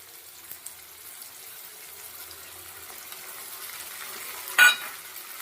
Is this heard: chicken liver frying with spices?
yes